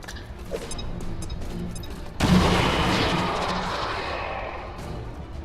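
Grenade blasts in the video game XCOM 2 hit with a sudden loud boom followed by a long crackling rumble, preceded by quieter game sounds.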